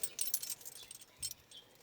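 Car keys for a manual Toyota Hilux with a 3RZ engine jangle faintly and briefly with light metallic clinks while being put into the ignition, close by and alone.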